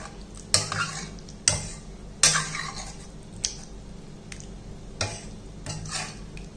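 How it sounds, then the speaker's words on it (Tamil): A spoon stirs and mashes potato with kambu dosa ingredients in a pan, giving scraping knocks and sharp clinks at uneven intervals over a low steady sizzle, close and fairly loud. "எல்லாத்தையும் நல்லா மிக்ஸ் பண்ணிக்குவோம். உருளைக்கிழங்க நல்லா மசிச்சு விட்டுருவோம்."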